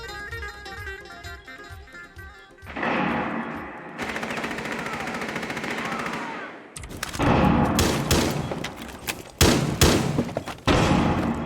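Loud bursts of automatic gunfire and single shots from Rainbow Six Siege, with rapid rattling volleys alternating with short gaps and heavy thuds, all close and dominant throughout.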